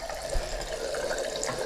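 Water running steadily from a bathroom tap during a DIY renovation of a 1930s home, a soft continuous trickle and hiss with no talk.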